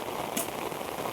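Heavy rain pours steadily over farmland in Karmeghda village, a dense, even hiss of falling drops across the whole moment, with one brief brighter splash near the start.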